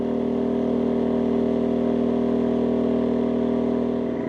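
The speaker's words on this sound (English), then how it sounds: "Now this generator is rated for 4800 max RPM, and at the max 1800 watt load, you can see we're right about 4800 RPM." A portable generator drones steadily at its maximum 1800 watt load, running near 4800 RPM, a loud, even, close engine hum that holds constant throughout with no other sounds.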